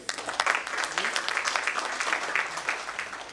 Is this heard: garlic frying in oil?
no